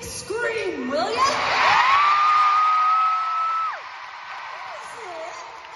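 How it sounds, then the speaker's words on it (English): A large concert crowd in a Belfast arena screams and cheers loudly and continuously for several seconds at a pop show, with a sustained high shriek rising above the roar before it fades. "Belfast, give them a big, big scream, will ya?"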